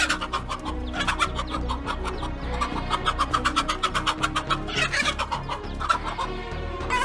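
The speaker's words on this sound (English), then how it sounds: "The mother hen is very intelligent as she drives her cubs away from this dangerous reptile" A mother hen clucks steadily while guarding her chicks against a snake, her rapid calls dense and close amid other fowl noise, with sharp louder bursts near the end.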